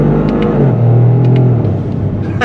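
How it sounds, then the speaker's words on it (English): A 2025 Toyota GR Corolla with the automatic gearbox accelerates hard, engine note climbing and then dropping sharply at a quick upshift before pulling again, loud and close from inside the cabin. "The upshifts are super fast."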